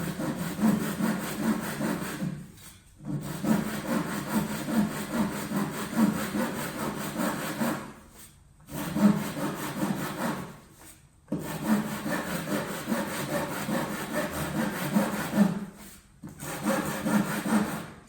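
Hand saw cutting through wood with a saw guide, steady back-and-forth rasping strokes in long runs broken by a few brief pauses, close and fairly loud.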